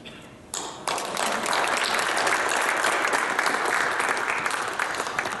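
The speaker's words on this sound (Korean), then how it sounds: "여러분 박수를 한번 주셨으면 좋겠습니다." After a brief quieter moment, a large church congregation at an Easter union thanksgiving service breaks into sustained, even applause, a thick wash of clapping that holds steady to the end without voices.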